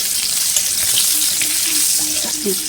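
An onion fries in a kadai with a hissing, watery sizzle, while faint clatter and a quiet voice sit underneath.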